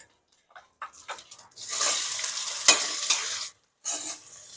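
Potatoes with cumin, asafoetida, ginger and garlic sizzle in hot oil and are stirred in a pan, giving bursts of scraping and crackling frying that stop briefly and then resume.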